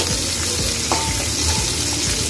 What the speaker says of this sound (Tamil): நம்ம இதெல்லாம் சேர்த்து நல்லா வதக்கி விட்டுக்குவோம்.